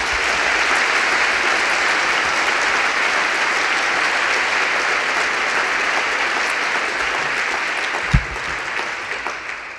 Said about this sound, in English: Let's give a big round of applause to Bill Burke-White